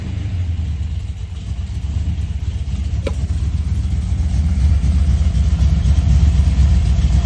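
A JMac Performance 350 crate engine, rated 375 hp, idles around 900 RPM on a run-in, giving a loud, close, steady low rumble that swells slightly toward the end, with no voices.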